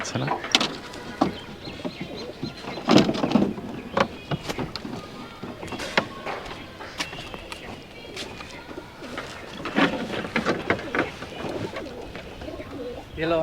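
Rajshahi Giribaz pigeons are let out to fly, and their wings flap and clatter in repeated bursts close by. Faint cooing and outdoor noise sit underneath, and people talk now and then.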